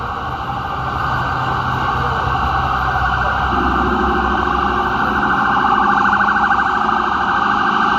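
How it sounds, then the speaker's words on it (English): An ambulance siren wails steadily amid city traffic, loud and sustained, with a rising tone joining partway through over a constant traffic rumble. "There's the ambulance."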